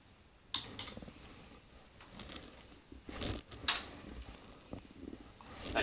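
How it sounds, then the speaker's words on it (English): Command typed on a computer keyboard during SAP system setup: a scattered run of light key clicks, irregular and fairly close, a few sharper taps standing out against a faint background hum. "I type a command called BD54."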